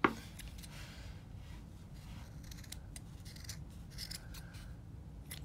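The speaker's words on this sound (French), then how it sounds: "Alors je coupe mon fil." Scissors snip through yarn while a triangular shawl fringe is being finished, a sharp cut at the start followed by soft rubbing and a few light snips close by, with no talking.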